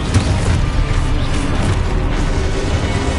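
Confringo blasting spell explosions in the Hogwarts Legacy video game, a loud, continuous rumbling boom with crackling debris, close and heavy throughout, with no talk.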